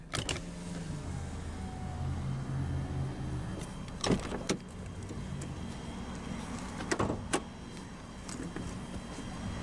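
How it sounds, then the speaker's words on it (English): The driver's power window of a 2010 Honda Accord LX-P sedan rolls down with a steady electric motor whir, close and alone, broken by a few sharp clicks and thumps along the way. "roll down the driver's window"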